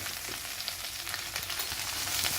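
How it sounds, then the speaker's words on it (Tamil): Okra sizzles in hot oil with cumin seeds and sliced onion in a pan, a steady, fairly quiet crackle with faint stirring and no voices. "இப்போ இந்த வெண்டைக்காயை சேர்த்துக்கலாம்."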